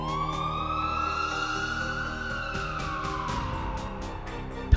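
Emergency sirens from fire engines and ambulances wail and sweep in pitch after a bomb blast at a convention centre in Kerala, sustained and fairly distant, with a sharp knock at the end.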